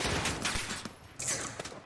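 Rapid bursts of automatic SCAR rifle fire in Call of Duty: Modern Warfare, sharp repeated shots in short volleys with brief gaps, fairly faint.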